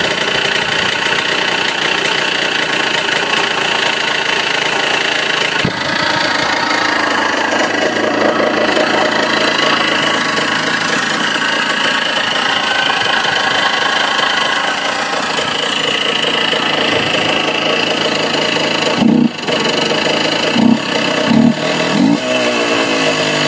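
A KTM 125 GS motorcycle engine idles steadily and loudly throughout after a kick start, with a rough, knocking rumble and a few sharper revs near the end.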